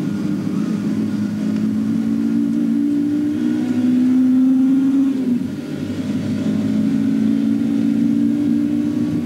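A Group N touring race car in a 1991 German championship race passes close by, its engine a loud, steady drone that rises to a peak and then dips slightly as the car goes past.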